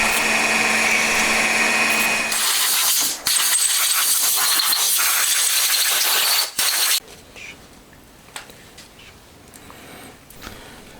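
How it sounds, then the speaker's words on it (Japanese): A drill boring tap pilot holes in a handmade engine cam chain cover for a Honda Monkey four-cylinder engine conversion gives a loud, steady whirring grind, briefly interrupted, then falls away to a faint hum with light clicks near the end. "タップの下穴ドリル開けていきます。"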